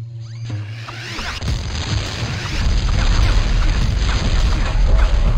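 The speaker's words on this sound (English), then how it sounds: "hate when they're gonna shoot rockets at me here" Rockets explode in the Rayman 2 video game, a sudden blast followed by a sustained, rumbling roar of booms and crashes that grows louder toward the end.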